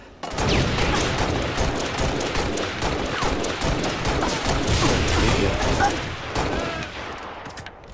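Rapid bursts of video game gunfire crackle loud and dense, close up and almost nonstop, with mechanical clatter mixed in and a voice briefly audible underneath.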